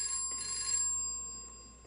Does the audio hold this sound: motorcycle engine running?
no